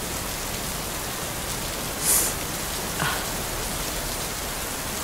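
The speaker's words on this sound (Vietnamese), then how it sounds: "Em ra đây hứng nút mưa cho đỡ buồn." Steady rain falls in a constant close hiss, with a couple of brief clicks and drips standing out briefly over the wash.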